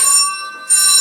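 A building fire alarm rings loud and close, a harsh metallic bell tone that fades briefly, then bursts back at full strength.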